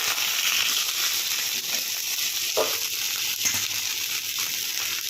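Vegetables frying in a pan give a loud, continuous hiss of sizzling oil that fills the whole stretch, with a few faint stirring scrapes and no voices.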